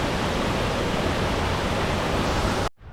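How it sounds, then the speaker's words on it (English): A waterfall near Moni on Flores, Indonesia, roars as a steady, dense broadband rush, loud and close, then cuts off abruptly near the end. "Just came from the waterfall there."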